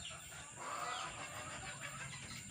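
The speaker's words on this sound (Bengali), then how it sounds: "আর এই যে মোরগটা" A young rooster about eight or nine months old, kept in a separate cage, gives a soft, drawn-out cluck at moderate distance over a steady background hiss.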